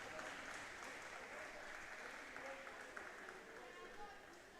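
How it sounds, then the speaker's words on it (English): Crowd of British Columbia and Ontario fans applauding at a U13 female lacrosse nationals game in an indoor sportsplex, a steady wash of clapping that carries on for several seconds with faint crowd voices underneath. "gets applause here from the crowd here, both British Columbia and Ontario"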